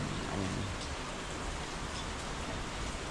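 Steady rain pours down on a farm where okra and calamansi grow, making a dense, even hiss of drops throughout with no voices heard.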